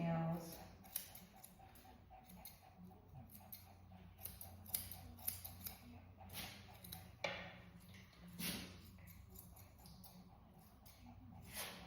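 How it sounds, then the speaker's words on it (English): Scissors trimming the fur around a senior dog's nails, making quiet, close snips and ticks scattered irregularly across the clip over a low background hum. "I'm just trimming around his nails."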